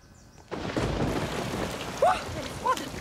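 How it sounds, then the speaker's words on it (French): A thunderstorm sets in with steady heavy rain, rolling thunder rumbling beneath it and a few faint voice-like sounds over the downpour. "Il y a de l'orage dans l'air."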